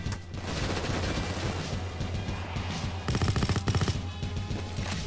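A light machine gun fires in Payday 2: loud, rapid, continuous automatic bursts with a rattling rhythm, growing even denser and punchier near the end.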